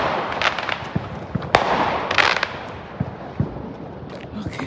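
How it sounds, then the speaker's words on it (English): Neighborhood fireworks going off at New Year midnight, a steady crackle and scattered sharp bangs of firecrackers and bursts at varying distances, some close and loud, others far, continuing throughout with faint voices in the background. "I stopped to do the fireworks."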